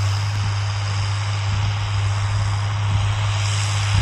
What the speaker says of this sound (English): I see some heat coming out of the pipe, so he's putting some power through that thing